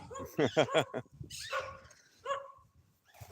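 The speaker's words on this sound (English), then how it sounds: "Friendly dog saying hello." A few short, close barks and yips from a small dog, then softer whimpering sounds with pauses between.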